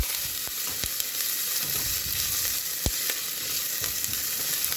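Onions cooking down in a soup pot for a potato corn chowder: a steady, dense sizzle with sharp little pops and a few clicks, close and unbroken, no talking.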